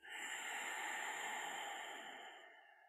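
A long, steady breath pushed fully out during kundalini yoga breathing for the lungs, a close, breathy hiss that holds for about two seconds before tapering away, with no talking.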